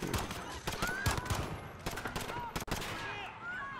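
Rapid automatic gunfire in the video game Modern Warfare comes in dense, crackling bursts amid battle noise, fairly quiet overall with brief pauses between volleys.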